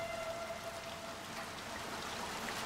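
Steady rain in the video game Little Nightmares II, a soft, even wash of falling water with a faint thin tone underneath, fairly quiet and with no voices.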